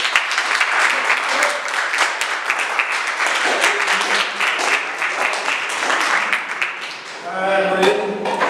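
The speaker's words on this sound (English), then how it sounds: "help me welcome with a very warm hand of applause our last poet on" An audience welcomes a poet onto the stage with sustained, loud applause. The dense clapping rolls on for several seconds and swells again at the end, with some voices mixed in.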